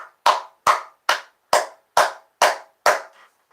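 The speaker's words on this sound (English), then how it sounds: "I give you a round of applause for effort," Eight slow, evenly spaced hand claps, loud and close, each ringing out briefly before the next, with no talk around them.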